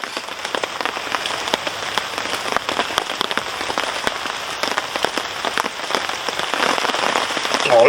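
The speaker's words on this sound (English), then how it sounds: "Oh, listen to that rain." Steady rain pattering on a wild campsite in wet, windy UK weather, with close, irregular drops striking surfaces over a continuous hiss; no voices.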